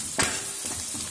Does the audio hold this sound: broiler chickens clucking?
no